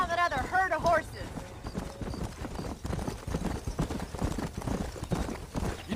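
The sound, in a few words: horses galloping in Red Dead Redemption video game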